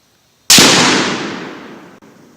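A single loud, sharp rifle shot from a Savage bolt-action chambered in .243 Winchester, fired outdoors at a range, followed by a long decaying echo rolling away for about two seconds.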